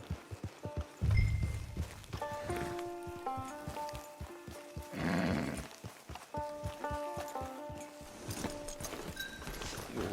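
Horse hooves clip-clop steadily in Red Dead Online, the rhythmic footfalls mixed with a musical score and a rushing swell of ambient sound.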